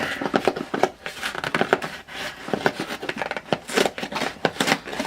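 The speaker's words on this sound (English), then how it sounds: "These are not the sharpest scissors, but hopefully they will do the job." Blunt scissors cut open the cardboard box of a Sphero R2-D2 app-controlled toy droid, giving a close run of uneven snips and crinkles.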